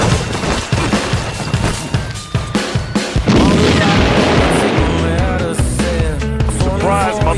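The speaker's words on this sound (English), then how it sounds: "Stop it with the dynamite!" Dynamite blasts in a video game, loud booming explosions with crashing debris and splintering clatter that fill the scene continuously and stay dense and intense throughout.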